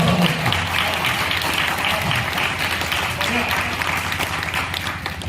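Audience applause at a Hindi comic poetry recital, a steady dense wash of clapping that holds for several seconds with a voice speaking over it near the start.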